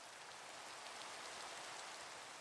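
Steady rainfall in Minecraft, a soft, even hiss of falling rain on surfaces that holds at a constant, fairly quiet level throughout with no voices or other sounds.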